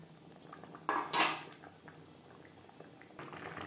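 Fried tilapia being mixed into brinjal gravy in a pan, faint scrapes and clinks of a utensil over a soft bubbling simmer, one louder scraping burst early on, quiet and close with no voices.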